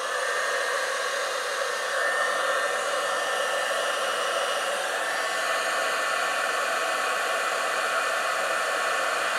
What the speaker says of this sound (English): I'm about to use a heat gun.